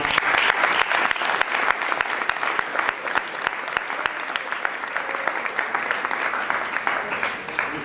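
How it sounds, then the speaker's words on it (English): Sustained audience applause for leaders at a Delta Sigma Pi centennial history panel, dense and steady clapping from a sizable crowd lasting about eight seconds. "Please give these leaders a round of applause."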